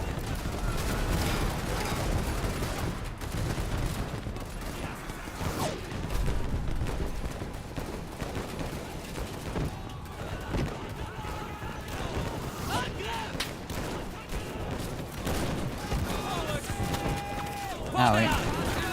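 Dense WWI battlefield gunfire from the video game Over The Top: rifle and machine-gun shots crackle continuously under a busy mix of battle noise, with a sharper burst near the end and talk running throughout.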